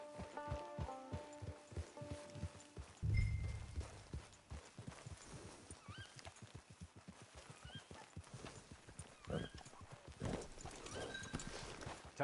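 A horse in the Red Dead Redemption 2 video game walks with steady, evenly spaced hoof clip-clops, close and clear, with a brief whinny partway through.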